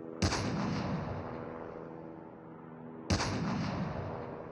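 Two loud, booming gunshots in the Call of Duty video game, about three seconds apart, each with a long rumbling tail, no talk over them.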